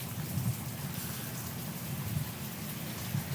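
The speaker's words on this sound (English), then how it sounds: "the thunderstorm was, like, incredibly loud" Steady heavy rain pours down during a thunderstorm, a dense continuous wash with a low rumbling undertone, fairly distant and even throughout with no voices.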